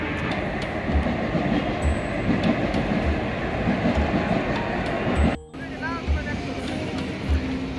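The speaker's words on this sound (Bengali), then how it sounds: "বারোটা 13 জম্বিতওয়াই এক্সপ্রেস দক্ষিণেশ্বর স্টেশনে ঢুকলো।" The Jammu Tawi Express pulls into Dakshineswar station with a loud, steady rolling rumble and rhythmic wheel clacks, broken by a brief dip before the roar resumes.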